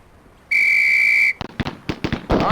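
A steady whistle blast in Police Quest SWAT, followed by a quick run of sharp semi-automatic gunshots fired one at a time, loud and close with no talking.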